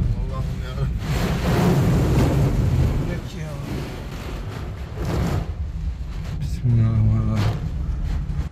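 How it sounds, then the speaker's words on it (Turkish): Storm-driven waves pound a car ferry crossing the Sea of Marmara between Yenikapı and Yalova, a loud continuous roar of surging water and wind buffeting with heavy swells, while frightened voices cry out over the din. "Fırtınanın etkisiyle yükselen dalgalar araçlarının camlarının kırılmasına, tavanlarının çökmesine neden oldu."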